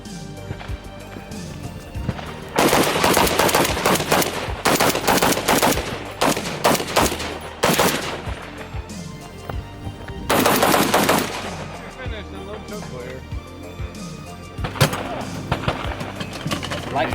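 Rapid gunfire from a 5.56 AK carbine at an outdoor carbine match, loud sustained strings of shots in several bursts with short gaps between them, close by, with faint voices in the background.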